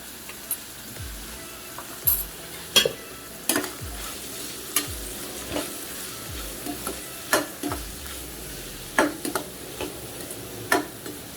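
Carrot poriyal being sautéed in a pan, with a gentle background sizzle and regular clicking scrapes of a spatula stirring roughly once a second, close and moderately loud.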